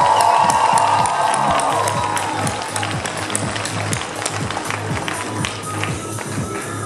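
An audience gives a loud ovation, with rapid overlapping clapping mixed with cheers and shouts. It starts strong and eases slightly while staying dense to the end.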